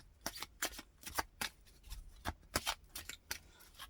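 Oracle cards are shuffled by hand at close range, a quick run of crisp riffling slaps and flicks in irregular bursts, quiet and alone with no talking.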